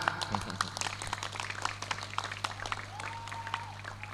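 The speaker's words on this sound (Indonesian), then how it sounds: "Aplaus untuk kita semua." An indoor audience at a civic dialogue event claps together in a steady, dense patter of applause that carries on throughout, with a faint voice briefly audible in the background.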